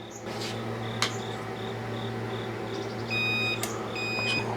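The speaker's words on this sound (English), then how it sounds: "So there's our beep." A Vevor 5-in-1 heat press timer beeps several times near the end, short high tones over a steady electrical hum and background insect chirping.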